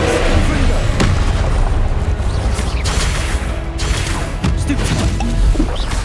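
Spell combat in Hogwarts Legacy produces a loud, continuous barrage of magical blasts, booms and crashing impacts, with sharp hits punctuating the dense action.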